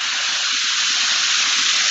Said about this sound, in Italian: non l'ho mai vista questa cascata, mai, mai.